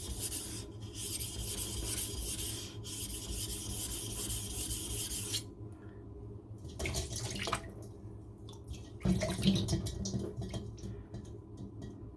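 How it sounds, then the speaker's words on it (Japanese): A kitchen knife is sharpened on a whetstone for a final edge, its bevel pressed flat to the stone: a steady, close, wet rasping of repeated strokes, a brief pause partway, then shorter scraping passes with no voices. "切り刃をしっかりと砥石に当てて、刃先だけ鋭くしようと思えば"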